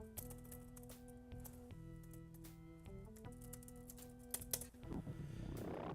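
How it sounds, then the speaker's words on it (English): Fast typing on a computer keyboard, a run of quick, close keystroke clicks over a quiet game music backdrop, ending in a noisy swell of sound. "Sometimes my fast typing backfires on me"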